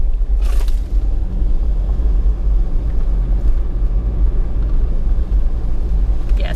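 A 4WD car crawling downhill in first gear on a forest dirt track, a loud, steady low engine rumble throughout with a brief bump or knock near the start.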